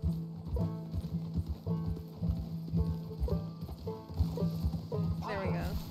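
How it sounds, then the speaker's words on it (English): Horse hooves trot in a quick, even clip-clop rhythm in Red Dead Redemption 2, close and distinct, with a voice speaking faintly underneath. "His horse trots at the speed of my canter."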